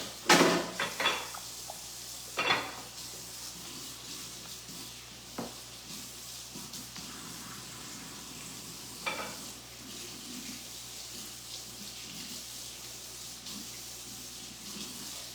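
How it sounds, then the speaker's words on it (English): Kitchen tap water runs into a sink while hands are rinsed of raw turkey and a knife is washed, a soft steady hiss with a few sharper splashes and clatters near the start. "let me rinse my hands of this turkey. And wash my knife."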